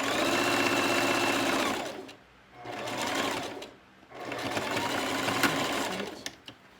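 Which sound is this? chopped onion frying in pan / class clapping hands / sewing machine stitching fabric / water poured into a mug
sewing machine stitching fabric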